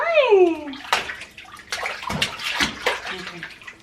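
Water is poured into a container that had held hot water, splashing and sloshing in bursts close by, after a high child-like vocal squeal at the start.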